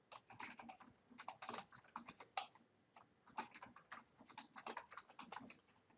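A password being entered on a computer keyboard: a steady run of quick, close key clicks in uneven bursts, with no voices over them.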